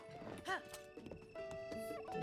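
A horse gallops in The Legend of Zelda: Tears of the Kingdom, its hoofbeats clopping among other game sounds, with a short tonal call near the start.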